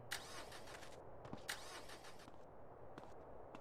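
Repeated cranking of a car engine in MTA San Andreas that fails to catch, in short bursts with gaps between attempts over a low, steady hum.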